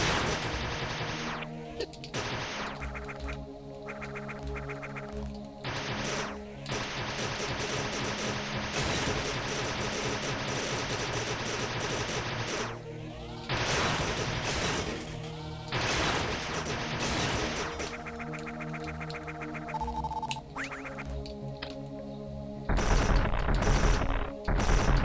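Super missiles fire repeatedly in AM2R, a Metroid 2 remake, as a dense barrage of loud blasts over game music lasting about twenty-five seconds, with a brief pause near the middle.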